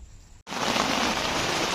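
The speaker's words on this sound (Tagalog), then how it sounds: "So, bali umuulan ngayon." After a brief quiet moment, steady heavy rain suddenly starts drumming on a tent overhead, dense and close, with no voices.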